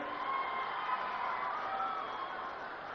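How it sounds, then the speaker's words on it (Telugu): A large crowd at a political rally for Chief Minister Chandrababu Naidu claps and cheers in a dense, steady roar of noise that fills the whole stretch without letting up. "అవును అంటే గట్టిగా చప్పట్లు కూడా చెప్పండి."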